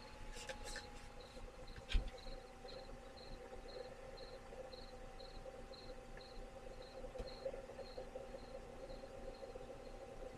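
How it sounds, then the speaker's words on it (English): Cricket chirps from a FitFirst white noise sound machine, a steady, evenly spaced high pulsing over a soft background hiss and low hum, with one brief knock partway through. "first is crickets"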